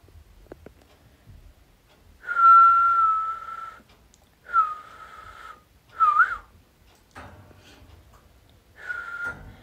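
Someone whistles a few sustained, steady notes in separate bursts with short pauses between, fairly close and clear against a quiet background.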